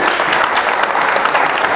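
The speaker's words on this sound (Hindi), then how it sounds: "जोरदार तालियां बजाओ" Loud, steady applause from an audience at a student award ceremony in Bhusawal, a dense continuous clapping close by with no break.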